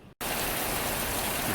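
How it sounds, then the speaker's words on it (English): Heavy rain falling in a dense, continuous roar that begins abruptly after a brief pause and stays loud and steady throughout. "Hey family, it's raining buckets."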